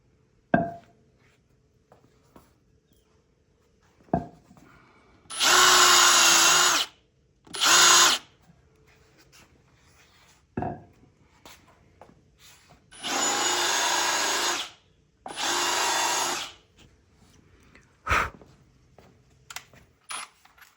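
A power drill countersinks a hole for an insert in a wooden farmhouse dining table, running in four short bursts of loud whirring separated by quiet gaps with scattered clicks and taps.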